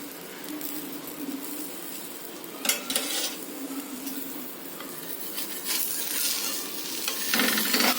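Amul butter sizzles on a dosa in a hot pan, a continuous crackling hiss with occasional utensil scrapes and clinks, growing louder toward the end.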